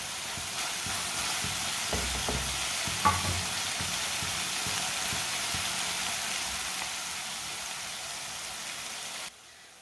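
Masala frying in a pan for a pea and egg dish, with a loud continuous sizzle and a few scraping stirs near the start, close and steady until it cuts off near the end.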